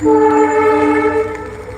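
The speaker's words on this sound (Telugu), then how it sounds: "ఇగో ట్రైన్ వస్తుందండి" A loud, sustained train horn blares close by for about a second and a half, then fades slightly at the end.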